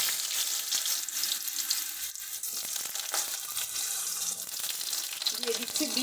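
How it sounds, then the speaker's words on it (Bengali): Potatoes go into hot oil tempered with five-spice and bay leaves for a mixed vegetable dish, giving a steady, close sizzle with crackling bursts throughout. "এবারের মধ্যে দিয়ে দেবো আলুটা"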